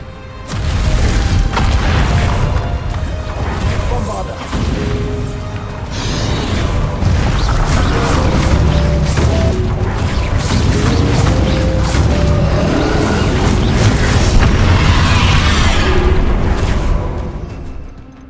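Bombarda blasting spells explode in Hogwarts Legacy: loud, booming, rumbling bursts with crashing debris that fill the whole stretch almost without a break. Clanking mechanical sounds and game effects are layered in, and no voices can be heard.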